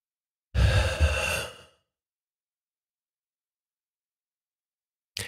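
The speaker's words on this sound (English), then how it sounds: "Nice deep breath." One deep, audible breath out, a close, breathy sigh lasting about a second, followed by silence.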